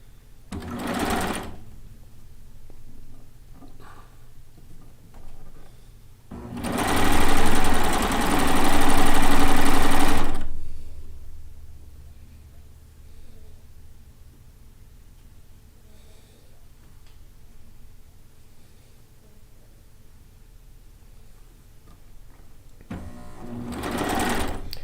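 A quilting sewing machine runs a quarter-inch seam on a log cabin quilt top, whirring in a short burst, then a longer sustained run, with quiet pauses and a final short start.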